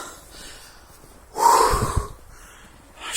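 A dog gives a single loud snort with a wheezy breath midway, close by, surrounded by quiet outdoor stillness in a snowy forest.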